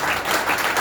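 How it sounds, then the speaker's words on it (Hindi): An audience at an Enagic business presentation breaks into a brief, dense burst of applause, many hands clapping together loudly for under a second. "एक जोरदार तालियां चाहूंगा।"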